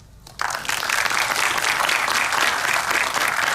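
A forum audience breaks into applause after a candidate's opening statement, a sudden burst of clapping that swells quickly and holds steady and full with no talk over it.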